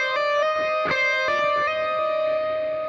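An electric guitar plays distorted, sustained notes from a solo with a few quick picked attacks and hammer-on changes in pitch, loud and alone without speech.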